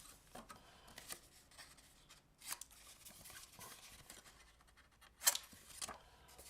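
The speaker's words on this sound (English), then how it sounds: "And then I always just trim off the corners." Scissors snip the corners off folded paper for a parallel-fold pop-up, giving a few quiet, close cuts and rustles spaced apart, with one sharper snip near the end.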